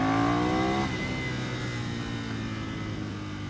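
Ducati Monster 659 motorcycle engine heard close: a loud rev rises sharply for under a second, then drops back to a steady rumbling idle that carries on alone.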